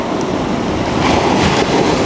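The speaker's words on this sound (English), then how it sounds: "So I can get a shot of the wave crashing." Ocean waves break and wash against a shoreline rock in a steady, close, rushing roar with a slight swell about midway, carried by wind-buffeted open air and no voices.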